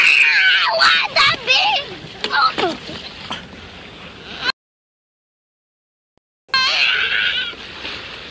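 A young child screams and cries in a tantrum over a beach ball at the beach, with loud high-pitched wails and shouts in bursts, near and intense, broken by a brief silent gap before the screaming resumes.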